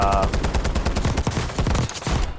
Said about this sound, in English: I'm going to show you what the gun shoots like